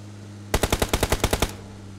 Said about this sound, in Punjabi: ਗੋਲੀਆਂ ਲੱਗ ਰਹੀ